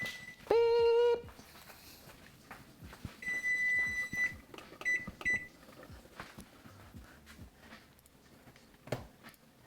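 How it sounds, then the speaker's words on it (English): A kitchen timer inside a house where pizza is baking gives a short burst of rapid, loud beeps near the start, followed by fainter intermittent high electronic tones over household clatter. "Timer's going off inside the house."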